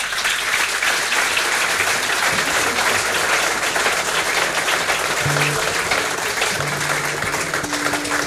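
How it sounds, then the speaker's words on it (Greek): An audience at a tribute event applauds steadily and loudly, a dense, sustained roll of clapping with faint voices and a few tonal sounds underneath. "Τα χειροκροτήματα είναι για εκείνον,"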